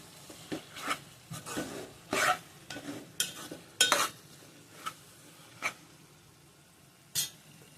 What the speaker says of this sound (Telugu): వీటిని ఒకసారి కలిపేసుకోవాలి.